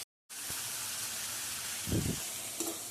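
Tomatoes and red chili powder cooking in hot oil for a Punjabi milk-based ridge gourd curry: a steady, close sizzle and hiss, with a couple of brief stirring scrapes and no talking.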